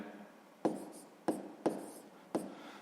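Pen or chalk strokes mark down an answer to a math problem, four short sharp scratchy taps spaced irregularly, close and clear in a quiet room.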